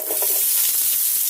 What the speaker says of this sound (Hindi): ऑनियन में डाल के हम अच्छे से फ्राई कर लेंगे।